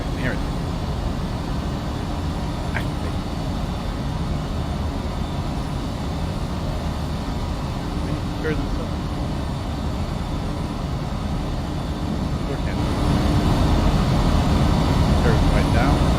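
Fokker F50 turboprop engines droning in flight in the Prepar3D v5 simulator, with rain: a steady, loud, even engine roar that swells slightly toward the end.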